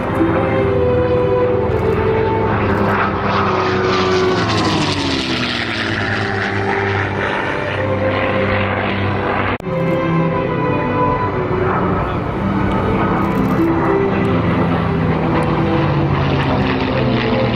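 Propeller engine drone of a B-17 bomber flying at an airshow, a loud steady roar that holds throughout with a slight pitch sweep partway as the aircraft passes.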